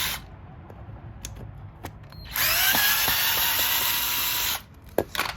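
A power drill backs screws out of a mounting bracket, with a loud, steady whirring run of about two seconds after some clicks and handling, then cutting off into brief clatter.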